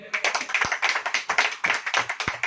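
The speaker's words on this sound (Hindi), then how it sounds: "ताली बजाइए पहले" A church congregation claps during a Hindi sermon, a dense run of hand claps with steady rhythmic peaks, fairly close and loud, with no speech over it.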